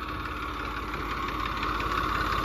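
Diesel tractor engine idling close by, a steady low knocking rumble that runs evenly throughout with no speech.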